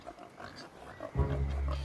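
Pigs on a farm in an animated pony series let out a deep, loud grunting oink that starts partway through and holds steady after quieter background sounds.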